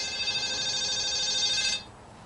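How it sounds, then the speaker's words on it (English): A telephone bell rings in a continuous bright electronic trill that holds steady, then cuts off abruptly near the end, leaving faint room noise. "Oh, phone's ringing."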